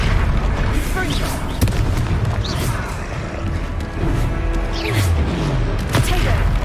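A Confringo fire spell bursting in the Hogwarts Legacy game, sounding as booming blasts and crackling pops within loud combat effects, with voices shouting over the action.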